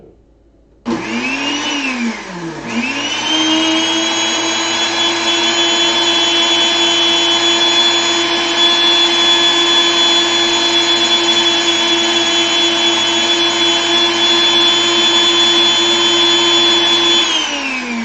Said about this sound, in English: this is a Cuisinart blender, so it has a timer built into the top